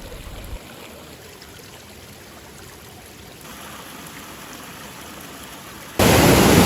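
Water pours at an abandoned waterfall as a constant, even rushing hiss with no voices. It swells suddenly into a louder roar near the end.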